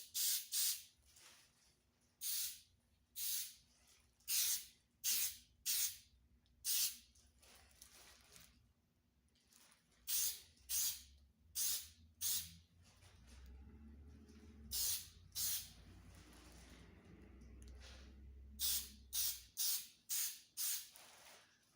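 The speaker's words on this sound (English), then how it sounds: "let's spray the final coat on it" A spray can lays the final coat of paint on a guitar body in a quiet room, with short hissing bursts repeated in quick series, pausing between them, close and clear.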